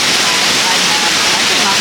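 Heavy rain pouring down in the Costa Rican wild, a loud, dense, unbroken roar of falling water filling the whole moment.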